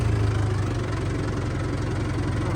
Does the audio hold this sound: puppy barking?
no